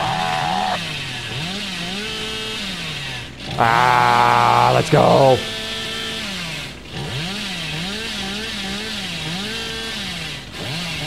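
Hillbilly's chainsaw in the Dead by Daylight video game idles with a wavering, sputtering drone, then revs hard into a loud, steady roar for about two seconds before dropping back to idle; someone speaks briefly.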